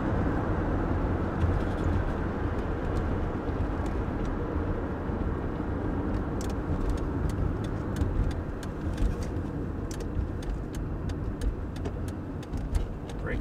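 Cabin drone of a 1986 BMW E30 cruising near 65 mph at about 2,000 RPM, a steady low engine hum and road roar with faint ticks and rattles, no talking.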